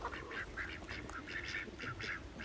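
Call ducks on a small backyard poultry setup quack in short, bright bursts, a rapid run of small calls heard faintly at a distance over steady background noise.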